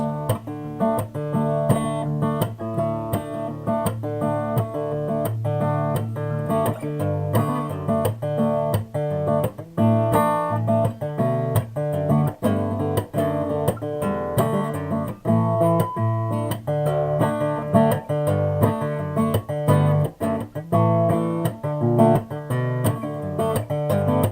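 Fingerpicked acoustic guitar plays a simple reel picking pattern, a continuous rolling alternation of bass notes and plucked strings, steady and close, with no talking.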